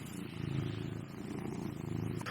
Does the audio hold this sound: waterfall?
no